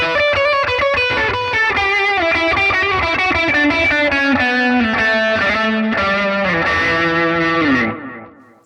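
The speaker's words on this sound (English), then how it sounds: "If I chuck in that drive, chuck in that reverb, we have ourselves" Electric guitar through a Bias FX 2 blues preset with drive and reverb, a distorted lead phrase of bends and sustained notes that ends in a decaying reverb tail.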